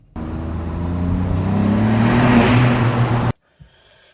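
A Ford Fiesta ST Mk8 with a Revo Stage 1 tune idling and revving close up, a loud steady engine drone that rises slightly in pitch, then cuts off abruptly into near silence.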